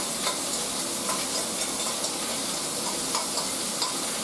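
Gelatinous ham hock stock goes into a hot pan and sizzles steadily, a loud, close, continuous frying hiss with faint stirring ticks and no voices.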